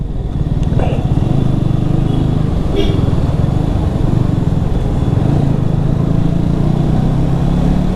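A Yamaha R15 v3 motorcycle rides along with a steady, loud low engine drone and wind rumble throughout, while a rider talks over it.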